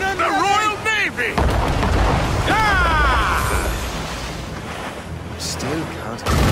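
Naval cannon fire from Royal Navy warships in Assassin's Creed Rogue, heavy booming bursts and rumbling blasts rolling loudly throughout, mixed with shouted voices and game effects.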